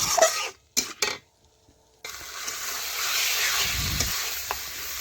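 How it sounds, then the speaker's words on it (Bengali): Chicken frying in a pan with spices for a chicken do pyaza, starting with a few loud scrapes of a spoon, then a short pause, then a steady close sizzle with light stirring. "এখন চিকেনটাও ভালোভাবে মশলার সাথে এইভাবে নাড়তে নাড়তে দেখুন আমি মিশিয়ে নিচ্ছি। আর মেশাতে মেশাতে দেখুন একটু ভাজাও হয়ে যাচ্ছে।"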